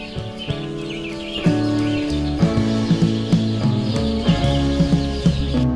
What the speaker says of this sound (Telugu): పక్షుల సౌండ్ వస్తుంది, చాలా బాగుంది